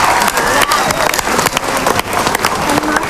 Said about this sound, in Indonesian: tepuk tangan untuk Dewan Juri.